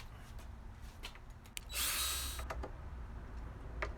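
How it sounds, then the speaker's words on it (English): Screws on the back plate of a 2015 Fender Classic Series 60s Jazzmaster guitar are tightened, heard as one brief, close whirring burst of a driver over quiet room noise. "Don't have to crazy tighten the screws on the back plate. Just snug, nice and snug."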